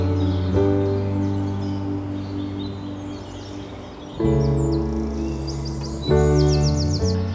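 Wild birds chirp and call in the treetops of a nature reserve, faint and distant, over a loud, steady low hum that drops and returns partway through.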